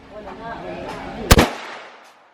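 A single sharp, loud AK-47 rifle shot cracks at a shooting range at the Cu Chi tunnels in Vietnam, ringing briefly over faint background murmur.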